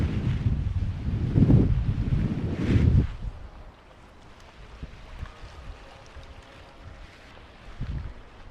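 Gusty wind buffets the microphone while fishing outdoors, with strong rumbling blasts in the first few seconds, then a softer steady rush and one more brief gust near the end.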